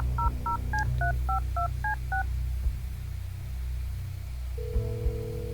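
A phone keypad in the video game Kathy Rain 2 sends eight quick DTMF tones in an even rhythm over a low ambient hum, then a steady tone starts near the end.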